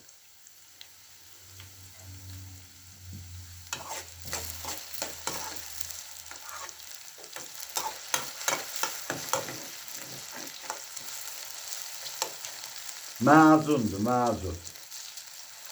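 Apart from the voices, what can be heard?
potatoes frying in a pan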